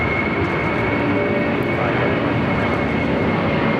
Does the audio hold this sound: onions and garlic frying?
no